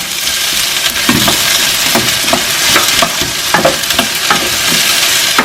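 Okra fried together with potatoes in oil over medium heat: continuous loud sizzling, with repeated spatula taps and scrapes against the pan every half second or so, and nobody speaking.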